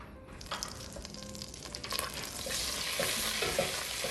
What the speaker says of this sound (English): I'm gonna add 2 tablespoons of butter, and we're gonna go ahead and melt this first